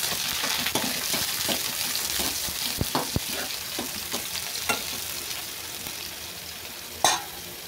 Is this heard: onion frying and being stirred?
yes